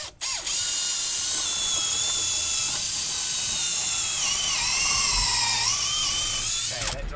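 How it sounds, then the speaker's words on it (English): A loud, steady high-pitched drill whine runs continuously for several seconds as it bores through timber, its pitch dipping slightly as it bites, then cuts off at the end. "I'm going to just go through and drill"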